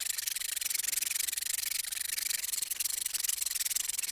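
A knife blade is stroked lightly back and forth on a diamond sharpener, giving a fast, even, hissing rub that repeats steadily throughout, close up and with no voices.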